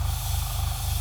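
Spray paint hisses in a steady, continuous stream onto an AMT 1/2500 scale USS Enterprise NCC-1701-E model starship kit, close and unbroken for the whole moment, with no talking.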